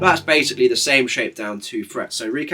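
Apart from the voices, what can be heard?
None of the usual background noises is heard.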